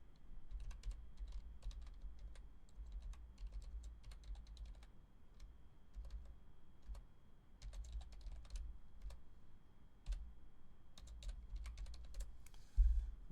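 Steady typing on a computer keyboard while entering an AI image prompt, dense runs of quick key clicks continuing with brief pauses, close and fairly quiet, no voices.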